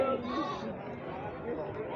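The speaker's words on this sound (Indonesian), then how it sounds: "jenis kambingnya Jawa Randu gemuk" A Jawa Randu goat bleats at a busy livestock market, a clear wavering cry near the start followed by fainter bleats, with people talking around it.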